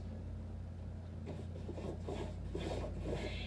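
A paintbrush applies white paint in several smooth strokes, soft close rubbing swishes repeating over a low steady hum.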